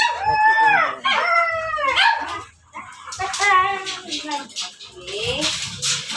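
Several dogs bark, yip and howl close by while waiting to be fed homemade bread, their wavering howls overlapping in loud bursts with short gaps between.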